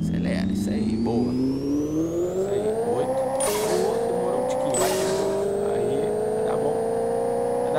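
A car in the racing video game Pixel Car Race accelerates hard, its engine tone climbing steadily in pitch with two quick gear shifts breaking the rise, loud and continuous.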